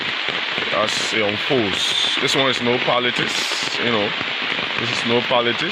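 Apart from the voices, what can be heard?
heavy downpour of rain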